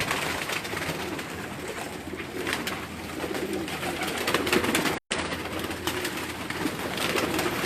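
Breeder pigeons cooing steadily at close range, a dense continuous chorus of soft throaty coos with a brief dropout midway.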